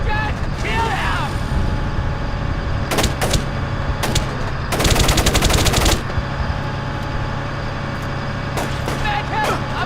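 Video game gunfire in Splinter Cell: Chaos Theory: steady loud shots and a dense burst of rapid automatic fire in the middle, over a constant low rumble, with scattered voices calling out.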